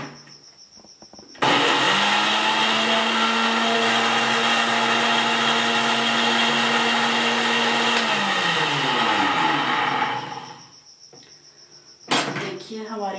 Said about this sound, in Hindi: अब इन सारों मसालों का हम फिर एक बार ग्राइंड कर लेते हैं